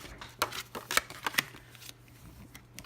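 A bone folder presses and scrapes along card bases, giving a quiet cluster of soft dry scrapes and light papery taps up close, fading toward the end.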